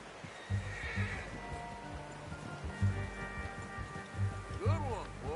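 A horse in the video game Red Dead Redemption 2 whinnies loudly near the end, with soft rhythmic hoof clops and light rain in the background while people talk.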